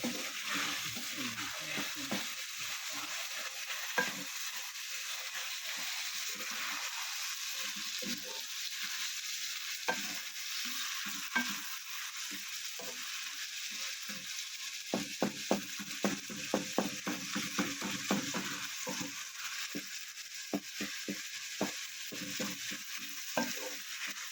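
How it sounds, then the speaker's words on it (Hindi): Tomatoes are stirred into spicy chicken and capsicum frying in a pan, giving a steady, fairly faint sizzle with repeated rhythmic scraping and clicking stirs, close and without talk. "अब हम टमाटर डालेंगे, तो हम मिक्स करेंगे।"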